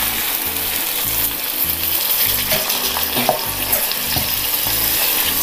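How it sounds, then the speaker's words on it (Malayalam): Boiling water poured into a pan of capsicum masala curry sets off a continuous loud sizzle and bubbling hiss, with splashing and faint stirring clatter over several seconds. "ഇനി ഇതിലേക്ക് നമുക്ക് ഒരു 1/2 ഗ്ലാസ് വെള്ളം ഒഴിച്ചു കൊടുക്കാം"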